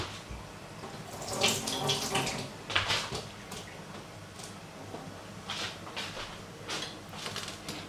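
A kitchen faucet runs steadily as a Scotch Bonnet pepper is rinsed under it, with brief splashy surges and clatters as the water strikes the pepper and sink.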